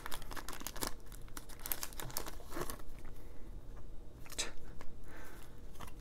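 Plastic top loader sleeves for Pokemon cards crinkle and rustle while a package is unpacked, as a run of close, quiet, irregular crackles and scrapes with no talking.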